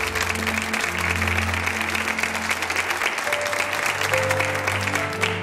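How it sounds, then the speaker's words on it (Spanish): An audience in a television studio applauds, a dense and steady round of clapping that stays loud throughout, with musical tones underneath. "Un aplauso para ellos."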